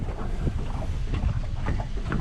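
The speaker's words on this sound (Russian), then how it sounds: "А как называется лодка, на которой вот мы идем? Это Крым" A Krym motor boat runs along the Danube, its engine drone mixed with water slapping and wind buffeting the microphone, steady and close, without talk.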